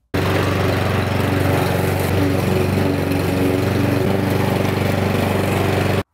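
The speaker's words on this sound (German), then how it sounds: "die abgestorbene Oberfläche mit einem Rasenmäher ganz kurz abmähen kann" A lawn mower cuts dead, dried-out grass very short on an old lawn being cleared, its engine droning loudly and steadily at close range from start to finish, with no voices.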